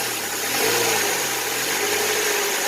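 A 2005 Chevy Cavalier with a 2.2 engine, recently repaired for a misfire, revs steadily as the gas is pressed, a continuous close engine drone with a low rising tone and no talk.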